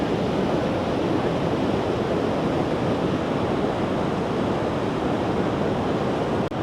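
Powerful Icelandic waterfall roaring with crashing water and spray, a loud continuous broadband rush filling the whole clip with wind buffeting the microphone, no talking.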